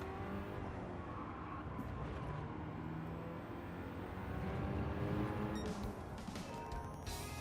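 A race car engine in Gran Turismo drones steadily and fairly quietly, its pitch shifting slightly partway through as the car drops down into third gear for a set of corners.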